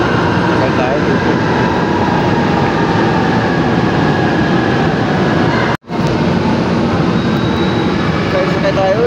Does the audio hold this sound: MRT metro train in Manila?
yes